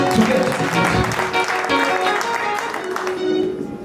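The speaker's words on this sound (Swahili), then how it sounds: "Piga makofi mazuri." A church congregation claps together in sustained, dense applause that stays loud and steady throughout, with a few voices mixed into the clapping.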